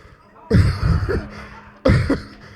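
Two harsh, throaty coughs a second or so apart, close and loud, with a faint steady hum between them.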